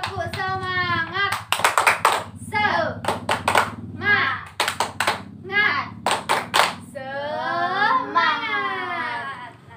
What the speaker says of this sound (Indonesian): Nah, kita tepuk semangat dulu ya.